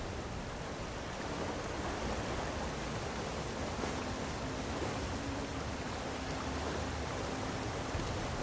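Steady roar of a waterfall in the video game Drizzt the Drow Ranger, a broad continuous rushing wash that holds even from start to finish, close and moderately loud, with no talking.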